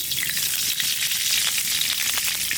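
Chopped onion frying in ghee for a mutton curry, giving a steady, dense hiss and crackle that holds close and even for the whole stretch, with no talk.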